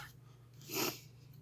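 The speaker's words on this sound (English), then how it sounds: "Sorry about the cough" A single short cough or snort from a man with a cold, a brief breathy burst close to the microphone over a low steady hum.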